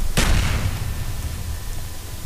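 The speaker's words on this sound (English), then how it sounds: "I hear gunshots" Gunfire in a first-person shooter game: one sharp, loud report near the start, then a rumbling, noisy tail and steady low background game sound with no other clear shots.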